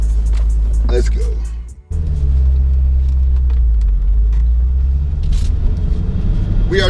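A Corvette C5 Z06 sports car drives along Snake Road, a winding local road, its engine rumbling loud and low from inside the cabin, dipping briefly as it shifts and then pulling hard again.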